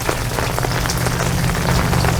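Rain pours off a roof onto the ground in a loud, close, steady splashing rush, with dense drips and a low hum running underneath.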